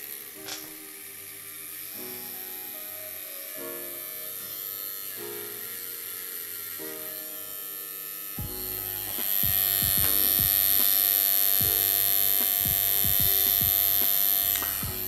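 A cheap tattoo machine's small buzzing motor hums steadily, then revs up louder and higher with a bright whine, close and continuous without talk.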